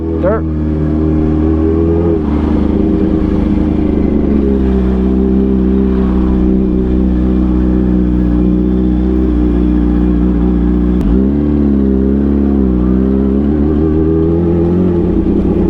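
Motorcycle engine humming steadily while riding on a road near Muir Woods, a loud close drone with mild pitch shifts and a brief throttle change near the end, wind rushing throughout.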